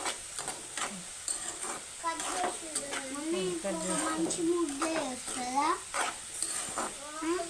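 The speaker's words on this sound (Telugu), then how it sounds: "చూడండి ఎలా ఫ్రై అయ్యో ఆలుగడ్డలు" Potato pieces sizzling and frying in a pan in a home kitchen while being stirred, a steady hiss under a woman's continuous speech, with occasional scraping of the spatula.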